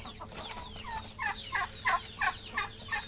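Farm chickens squabble over a caught mouse, a run of sharp, rising squawks and gobbling cries in a quick series of about six bursts, fairly close, over low background noise.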